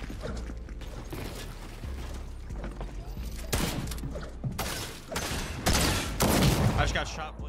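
Gunfire in the battle royale game Fortnite, with rapid shot bursts and sharp cracks, sparse early and then denser and louder toward the end, over a low game-sound bed.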